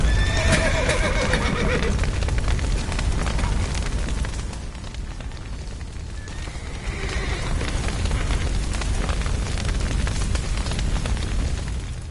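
Horses whinny and neigh repeatedly over a loud roaring crackle of fire, trapped under a collapsed roof, with hooves stamping and clattering close by.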